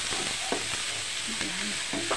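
Chicken frying in a pan for sotanghon soup, with a continuous hissing sizzle and a few scattered stirring knocks, close by, no voices.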